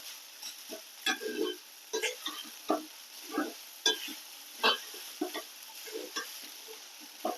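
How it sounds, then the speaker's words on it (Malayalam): Salted beaten rice (poha) stirred in a pan with a spoon, making soft scraping strokes and light sizzling taps in an irregular rhythm, close and fairly quiet, with no talking. "അവലിന് ആവശ്യമുള്ള ഉപ്പിട്ടിട്ടുണ്ട് എന്നിട്ട് ഒന്ന് ഇളക്കി കൊടുക്കാം"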